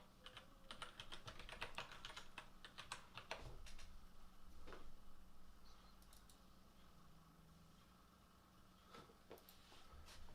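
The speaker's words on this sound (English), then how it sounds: "I want to type that to get a different character." Typing on a computer keyboard, quiet and close, in irregular bursts of rapid key clicks separated by short pauses, with a faint steady hum underneath.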